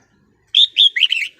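A wild red-whiskered bulbul calls in the morning outdoors: a quick series of three or four bright, warbling chirps close by, loud and clear against a quiet background, with no talking.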